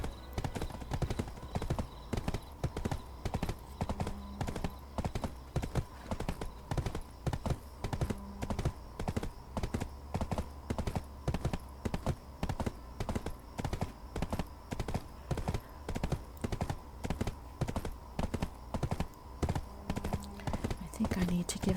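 Horse hooves clip-clopping in a steady, even rhythm while riding in Black Desert Online, a mount auto-travelling toward Velia, with occasional short neighs over a soft background tone.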